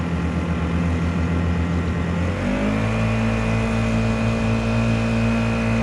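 A Honda GX50 outboard motor mounted on a Nucanoe Pursuit kayak drones steadily up close, then revs up partway through and holds a higher, louder pitch.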